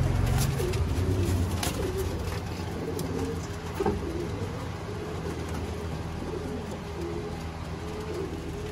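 Ferozpuri pigeons, pure-bred females kept for sale, cooing at night in a loft, soft repeated low coos layered under a steady broadband hiss with occasional faint clicks, no voices.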